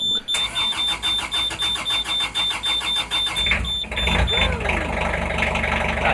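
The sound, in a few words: narrowboat engine being started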